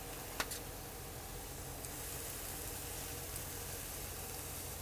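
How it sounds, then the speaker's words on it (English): Steady, broadband sizzling hiss of shrimp and sausage kabobs cooking on a charcoal grill, constant and close, with a faint pop or crackle near the start and no talking. "I do love the sound of that sizzle."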